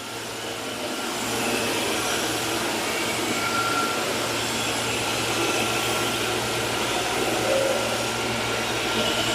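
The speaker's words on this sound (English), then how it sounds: "turn off the vacuum, raise the squeegee, and you're done" An ICE i15B floor scrubber runs its vacuum with a steady, loud whine and airy roar that stays constant throughout, with no talking over it.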